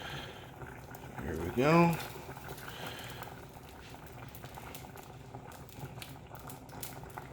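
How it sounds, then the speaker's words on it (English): Cooked fettuccine noodles are lifted from a pot of water and dropped into the sauce, giving a brief wet splash and slap under a voice, then low kitchen noise. "we're just going to take them straight from the pot right into the sauce"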